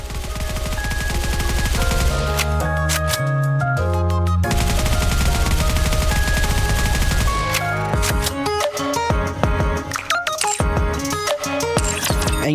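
Bursts of rapid automatic gunfire from the character Siren striking her shooting pose in the mobile game Goddess of Victory: NIKKE, loud and close, layered over a continuous upbeat game music track.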